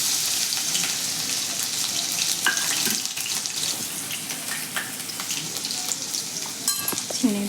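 Grated potato sizzles in hot oil and ghee with cumin and curry leaves for a Kathiyawadi dish. The loud, crackling fry is continuous and close, broken by a few scraping stirs and spatters, with no voices.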